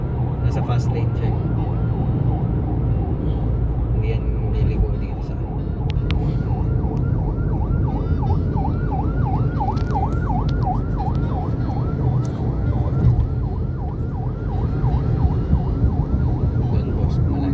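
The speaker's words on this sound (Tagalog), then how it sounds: "Saan may wangwang? sa kaliwa natin." A wailing emergency siren from a vehicle in the fast lane on EDSA cycles steadily in the distance beneath loud road and engine rumble, with a voice speaking over the traffic.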